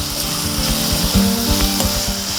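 Onions going into a hot pan for a mango tomato curry after curry leaves and coriander, a loud close sizzle with rhythmic stirring scrapes throughout.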